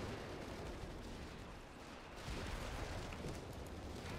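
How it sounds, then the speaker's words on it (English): Infantry gunfire from Company of Heroes 3 rumbles faintly and continuously, a distant muffled wash of shots and low booms without clear separate cracks. "Infantry section opening fire."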